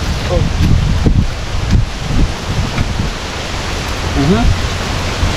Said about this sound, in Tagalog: Bumalik nga yung hangin.